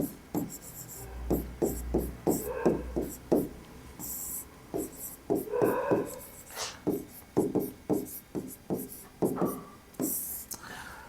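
Pen on paper while a list of ID documents is written out, a series of short scratchy strokes in quick bursts, close and fairly soft, with hushed speech in between.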